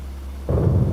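Cartoon thunder before rain in a Peppa Pig camping episode: after half a second of quiet hum, a loud, deep rumble rolls in suddenly and carries on, with no voices.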